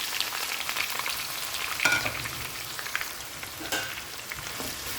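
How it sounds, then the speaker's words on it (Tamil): Sliced onions and green chillies fry in hot oil for mushroom biryani, a soft, constant sizzle crackling evenly with a few scraping stirs of a spoon against the pan. "இந்த ஆனியன் வந்து இந்த எண்ணெயில் நல்லா வந்து கோல்டன் கலருக்கு நல்லா ஃப்ரை ஆகணும்"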